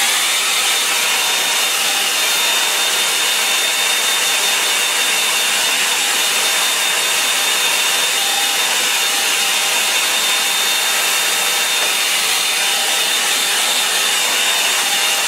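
A hair dryer blows steadily at close range to dry the background wash of a painting, a continuous loud broadband whoosh with a faint high whine, lasting throughout without speech.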